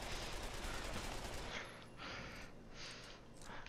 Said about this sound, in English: I hear gunfire. What's going on?